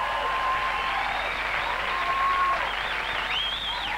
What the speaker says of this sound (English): This is anticipatory applause that we have now.